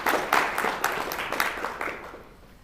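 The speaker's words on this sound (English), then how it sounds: "I think you deserve a round of applause because you are building our future." Scattered audience applause at an animal law honors event, a few distinct claps ringing out at a moderate level before thinning and fading away.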